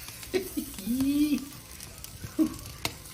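Beef tenderloin searing over an oak fire in a home fireplace, giving soft sizzling and a few popping spits, with brief sounds of handling and a voice in between.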